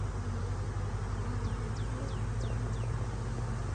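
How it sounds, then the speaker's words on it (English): Honeybees from a swarm clustering and climbing on a branch, a steady outdoor buzzing drone with a few faint bird chirps over it, close and continuous, with no talking. "the bees are still sort of marching in that back corner"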